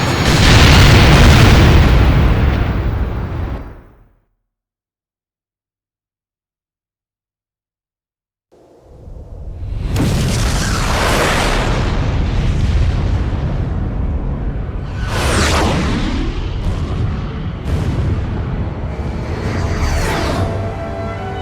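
Explosions tear through enemy facilities in the PSP flight combat game Ace Combat: Joint Assault, a huge booming blast that cuts to silence, then a fresh roar of rumbling detonations with sharp bursts layered over a continuous low roar.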